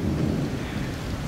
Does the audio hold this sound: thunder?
yes